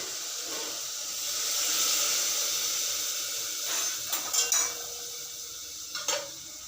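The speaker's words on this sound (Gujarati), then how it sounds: "હવે આપણે 1 ગ્લાસ જેટલું પાણી નાખીશું અંદર." Water poured into a pan of cooking onion curry gives a steady hissing sizzle that swells in the first seconds and settles, followed by a few sharp clinks of a utensil against the pan near the end.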